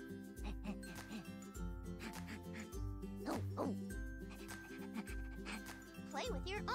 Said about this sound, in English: Puppy is scratching and barking.